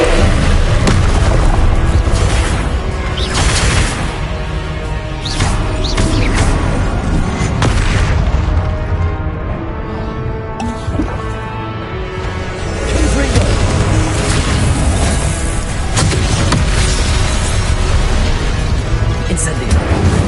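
Confringo fire spells in the video game Hogwarts Legacy erupt in repeated loud booms and crackling blasts, layered into a dense, continuous roar of fiery explosions with some overlapping voices.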